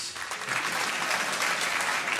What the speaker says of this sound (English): I hope you're clapping for Mandela.